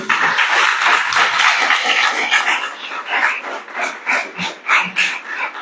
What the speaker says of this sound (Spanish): Vamos a dar un aplauso a Yeren.